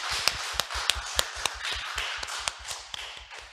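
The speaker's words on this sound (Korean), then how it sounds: "하나님께 우리 감사의 박수 한번 하십시다." A church congregation claps together in a steady rhythm of sharp, distinct hand claps, fairly close and even, with no talking over it.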